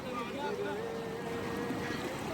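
A boat engine hums steadily on a lake during a Himalayan trek near Deoriatal, a sustained drone with a wavering tone and people talking over it.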